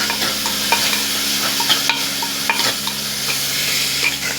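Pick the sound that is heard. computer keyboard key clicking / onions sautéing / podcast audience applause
onions sautéing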